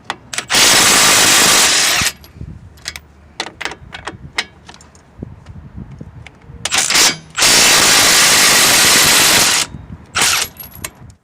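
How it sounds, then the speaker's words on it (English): Two long bursts of a buzzing power ratchet with a 21mm deep socket spinning off strut nuts on a 2006-2013 Chevy Impala, loud and close, separated by clinks and clatter of metal parts being handled. "use a 21mm deep socket to remove the 2 nuts"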